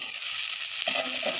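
Cauliflower florets fry in hot oil in a pan, giving a steady close sizzle with crackling bursts and no voices.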